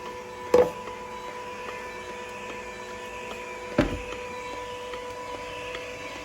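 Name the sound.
Tefal ZC420e38 auger juicer quietly squeezing tomato juice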